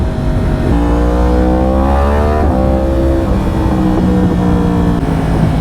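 A new-generation Yamaha R1 motorcycle pulls hard under acceleration, the engine note climbing in loud rising sweeps broken by quick shifter gear changes, with a constant wind rush and no talk.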